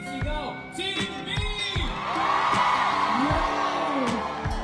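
A live audience at a Filipino variety show yells and whoops for Team B, the shouting building into a loud, sustained cheer over rhythmic music beats.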